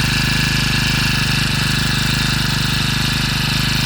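A new 4-stroke power sprayer engine runs steadily at close range, a loud, even, rapid mechanical chugging with no pauses or voices.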